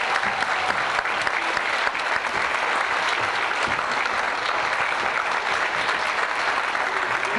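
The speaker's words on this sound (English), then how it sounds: "If we could have a little applause for Miss Romanelli." Steady applause fills a school graduation ceremony hall for a kindergarten teacher, many hands clapping evenly and continuously at moderate loudness without speech.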